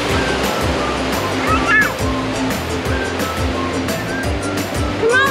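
Ocean surf washing onto the beach at Siesta Key, Florida, a steady loud rush that swells and recedes, with faint voices and brief chirpy sounds mixed in.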